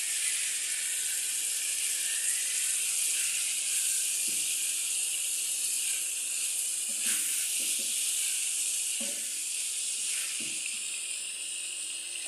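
Fish head sautéing with dried shutki fish in a pan gives a steady, moderately loud sizzle throughout, with a few faint soft knocks of a utensil scattered over it.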